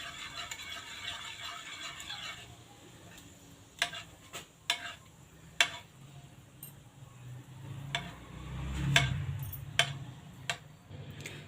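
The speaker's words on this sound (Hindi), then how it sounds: "इसको हम हल्का सा स्पून की मदद से ऐसे मिक्स कर देंगे।" A spoon stirs cooked moong dal in a pot, making scattered light clinks and scrapes against the metal over a low background hum, fairly quiet and irregular.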